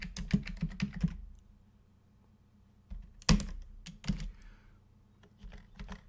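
Typing on a computer keyboard, quick bursts of close, crisp key clicks with a pause in between, then a few more scattered taps, no talking.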